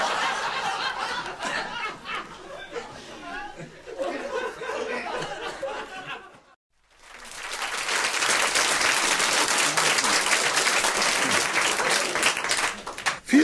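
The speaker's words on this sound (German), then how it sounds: "für den freundlichen Applaus, mit dem Sie mich eben begrüßt haben." A live audience applauds warmly in a hall at a 1972 cabaret reading, with scattered chuckles and chatter at first, a brief pause, then a loud, sustained wave of clapping filling the room.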